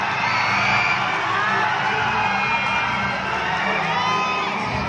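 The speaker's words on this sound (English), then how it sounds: "The crowd is getting wild." A dense festival crowd at the Kaamulan Festival in Bukidnon cheers, yells and whoops without pause during a Laga Ta pageant. The roar is loud and steady, with a few high shouts standing out above it.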